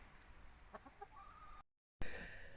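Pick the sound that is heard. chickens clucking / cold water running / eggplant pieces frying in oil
chickens clucking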